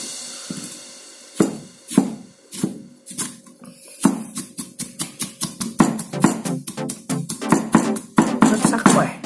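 A very sharp new knife mincing food such as garlic on a chopping board gives sharp, close knocks, first spaced apart and then speeding into a quick, uneven run of chops.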